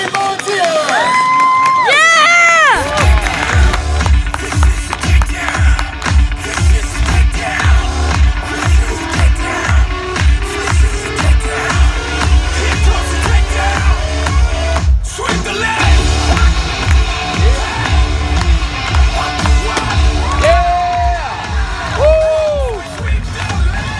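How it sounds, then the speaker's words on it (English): A crowd at a fair cheers and claps for a volunteer, with children shouting and whooping in a sustained burst of noise and a voice briefly heard at the start and near the end. "how about a great big round of applause for our very brave volunteer?"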